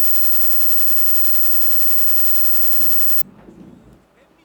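A sine wave tone from a signal simulator plays steadily for about three seconds, harsh and buzzy with a stack of strong harmonics rather than a pure tone, then cuts off abruptly, leaving faint room noise.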